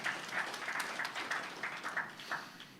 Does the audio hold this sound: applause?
yes